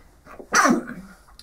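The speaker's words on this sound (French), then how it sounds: "atchoum!" A single sharp human sneeze bursts out loudly after a brief intake of breath, then fades quickly in a quiet indoor room.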